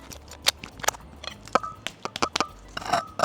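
Someone bites and chews a crispy wrap of zucchini and salmon close to the mic, making a string of sharp, uneven crunches with a few brief pauses between bites.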